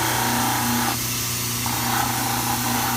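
A diamond disc trims a dental preliminary cast with light pressure, a steady close whirring grind that dips briefly and then resumes without voices.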